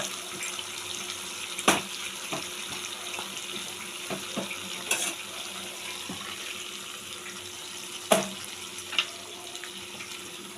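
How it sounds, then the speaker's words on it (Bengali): Tap water runs steadily into a sink in a home kitchen while palak paneer cooks, a continuous soft rushing with a few faint clinks and knocks, no talking. "দেখুন, আমি একটু ধুয়ে জল দিয়ে দিলাম"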